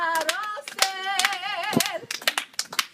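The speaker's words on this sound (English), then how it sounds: "Now you start clapping hands." Hands clap along to a pop song with a sung melody, the sharp claps landing in a loose rhythm under and between the vocal lines.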